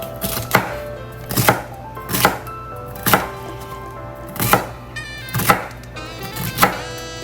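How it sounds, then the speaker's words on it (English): Three celery sticks chopped with a knife on a board, eight or so crisp, evenly spaced chops, close and clear with no voices. "these are 3 sticks of celery. We're gonna chop them up."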